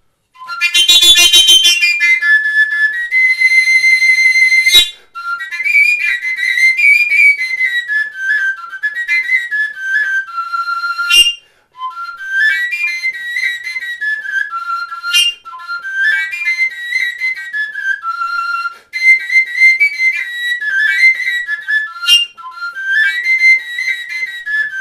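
A Slovak folk overtone whistle plays a bright, loud melody of shifting high harmonics, phrases broken by brief pauses and breaths, heard solo and close.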